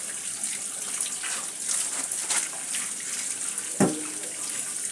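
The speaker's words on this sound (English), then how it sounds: "make sure you make your spaghetti to be cold under running water" Cold tap water running over cooked spaghetti in a kitchen sink, a steady close splashing stream with one brief knock near the end.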